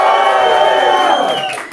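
An audience at a beginners' stand-up comedy class show cheers and whoops loudly together, a dense, close roar of voices that holds steady and then trails off.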